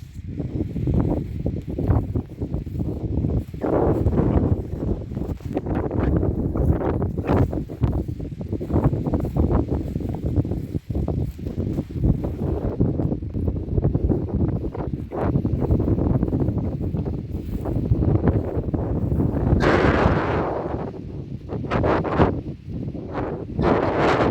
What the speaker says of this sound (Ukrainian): погода лише, що вітер віє